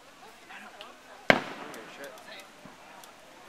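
A firework bursts with one sharp, loud crack, followed by a crackling, fading tail and scattered smaller pops. Voices murmur in the background.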